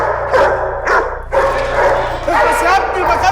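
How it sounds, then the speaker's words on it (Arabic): Several dogs bark and yip in repeated bursts, loud and close, mixed with shouting voices during a tense scene from an Egyptian TV drama. "الكلاب دي بقى لها 3 ايام ما كلتش"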